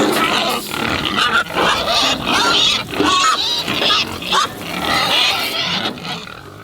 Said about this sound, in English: we are getting ready to transfer the pigs to their job sites